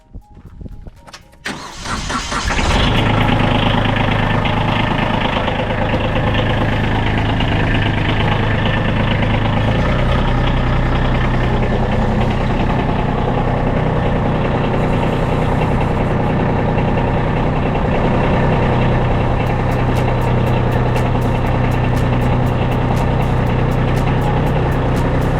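A Kubota B2301 compact tractor, fitted with a snow blower attachment, starts up and then idles loudly and steadily at close range, a continuous low engine rumble with no talking over it.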